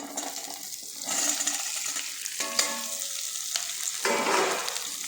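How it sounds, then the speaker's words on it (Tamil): Small shallots sauté in a pan for Karaikudi-style mutton uppu kari, with a steady soft sizzle broken by scraping stirs and a sharp clink of the spoon against the pan. "அதையும் போட்டு நல்லா வதக்கிடலாம்"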